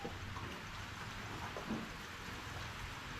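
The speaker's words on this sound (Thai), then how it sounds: "ฝนฝอยใกล้จะหมดฝนแล้ว" Steady, soft hiss of light drizzle falling outdoors, a continuous faint patter with no voices.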